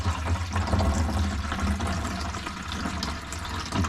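Water pours steadily into a plastic bottle being tested for leaks, a continuous gushing, filling sound close by with no voices.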